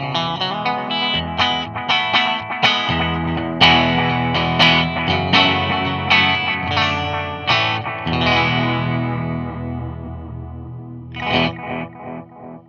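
An electric guitar played through delay pedals rings out in a steady stream of picked notes and chords, each one trailing echoing repeats that blur into a full, sustained wash, loud and alone.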